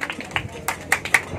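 Audience at a tribute ceremony claps in short, scattered bursts, a few sharp claps spaced across a brief moment, light and close rather than a sustained roar.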